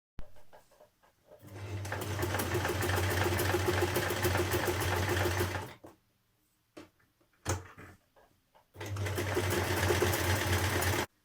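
Close sewing machine working a buttonhole on a dress: a long, even run of rapid stitching with a low motor hum, a silent pause with a faint click or two, then another sustained burst.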